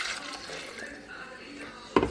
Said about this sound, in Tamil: நான் நல்லா ஒரு கப் அளவுக்கு தண்ணி சேர்த்துக்கிறேன்.